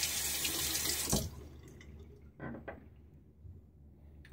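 A bathroom sink tap runs steadily for rinsing after a wet shave, a bright rushing stream that cuts off abruptly, followed by quiet splashes and drips.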